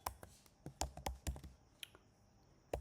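Python code typed on a computer keyboard: a quick, uneven burst of close, quiet key clicks, then a short pause and a final tap, with no talking.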